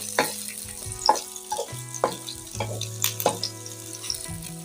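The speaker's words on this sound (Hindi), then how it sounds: "आधी प्याली हमने ऑयल की ऐड कर दिया कढ़ाई में। अब हम इसमें प्याज को ब्राउन करेंगे हल्का सा" Onions browning in oil in a kadhai give a close, steady sizzle punctuated by regular metallic scrapes and clanks of a spoon stirring against the pan.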